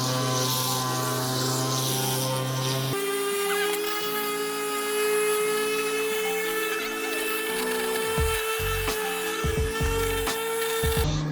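An electric sander fitted with 80-grit paper scuffs a valve cover on a Toyota 3TC engine from a TE72 build, a steady close whine that hums continuously throughout with no talk.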